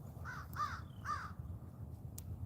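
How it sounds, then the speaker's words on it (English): A crow calls from up in a tree in a wintry outdoor setting, giving three harsh caws in quick succession, distant and fairly faint over a low background rumble. "Hear the crow up there in the tree."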